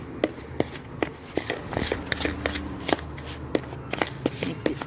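Homemade taste-safe kinetic sand mixed by hand, a close, quiet run of gritty rustles and irregular soft clicks and taps as the grains are worked, with no talk.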